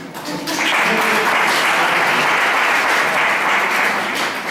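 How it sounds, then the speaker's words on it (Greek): Sustained applause from a crowd at an association's annual general meeting, steady and loud throughout after a brief quieter start. "Ένα χειροκρότημα."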